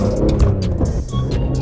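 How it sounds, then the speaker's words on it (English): A BMW E46 M3 on a drive, its engine a steady low drone with road rumble and some wind, sustained and fairly loud throughout, with faint speech-like sounds mixed in. "So taking the E46 out for a quick post-wash drive"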